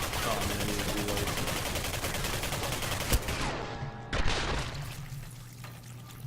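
Dense bursts of gunfire in the video game Singularity rattle for about three seconds, then cut off, leaving a sharp crack and a trailing, quieter tail of sound.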